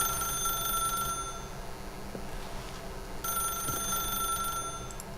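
A telephone rings in the video game The Stanley Parable. Two bursts of bright, trilling bells sound about two seconds apart over a steady ambient hum.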